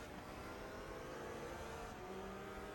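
A Porsche race car in a racing video game at Bathurst, a faint, steady engine whine with a pitch shift near the end as it runs behind another car, no talk.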